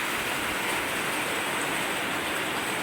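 Heavy monsoon rain pours steadily over Parpoli, a Konkan village, a dense, unbroken hiss close by with no voices.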